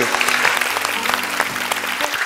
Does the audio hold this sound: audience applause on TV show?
yes